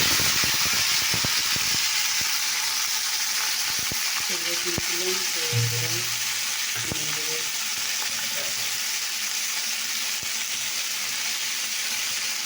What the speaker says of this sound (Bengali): তেল 5 ফোড়ন দিয়ে দিলাম